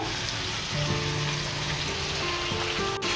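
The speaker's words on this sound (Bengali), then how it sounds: "চিংড়ি মাছগুলো একটু এপিট ওপিট করে দেব আমি একটু হালকাই ভাজবো" Turmeric- and salt-coated shrimp frying lightly in an uncovered pan, a dense steady sizzle and crackle, close and continuous, with faint spatter and a sharp click near the end.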